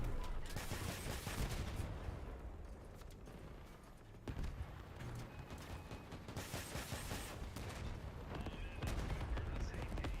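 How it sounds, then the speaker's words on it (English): Enemy gunfire in a video game, bursts of rapid shots crackling in dense volleys that swell and fade across the stretch, loud and continuous with layered game noise beneath. "what the fuck are they shooting at me?"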